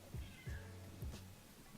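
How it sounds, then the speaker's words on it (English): A house cat meows in short repeated calls, three or four close, clear cries in quick succession. "My cat meowed."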